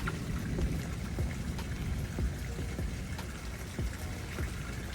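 Steady rain falls outdoors with a dense patter of drops hitting surfaces, a constant moderate wash of sound with no voices.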